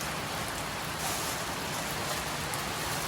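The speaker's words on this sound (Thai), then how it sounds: "ฝนก็ตกครับผม" Steady rain falls continuously beside a flooded fish pond in the countryside, a dense even hiss of drops on surfaces with no voices and no break in the downpour.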